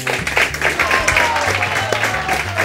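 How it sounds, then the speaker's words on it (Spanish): Spanish TV show audience giving a round of applause as a guest is welcomed on, moderate clapping under a host's voice and some low music throughout. "Vamos a pasar al primero y le damos un aplauso"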